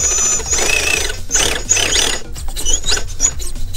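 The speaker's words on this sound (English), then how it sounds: "That Holmes Hobby revolver sounds not too good, not too suave" A damaged Holmes Hobby Revolver brushless motor drives an RC rock crawler, a loud, close, grinding mechanical whine with ratcheting, gear-like chatter that rises and falls without stopping.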